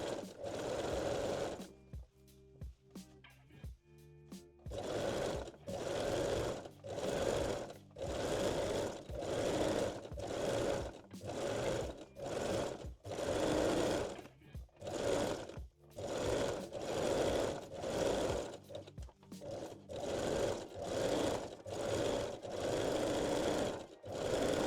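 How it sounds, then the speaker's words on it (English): A sewing machine runs zigzag or 3-step zigzag stitches over elastic on lingerie panty leg openings, in repeated bursts of steady whirring separated by short pauses, close and fairly loud with no talk. "Set your machine to zigzag or 3-step zigzag stitch and finish both leg openings."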